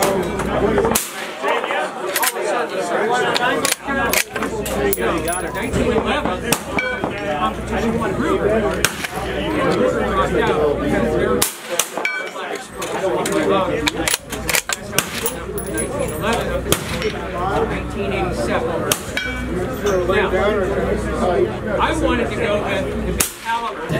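Sharp cracks from a 6.5 Creedmoor rifle with a 13-inch barrel ring out at irregular intervals across a live-fire range day at SHOT Show 2022, loud and close, while people talk almost continuously between and over the shots.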